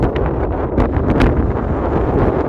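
Strong, driving wind on a Snowdonia mountaintop near Foel Fras in the Carneddau roars loudly and continuously, with gusty buffeting against the microphone throughout.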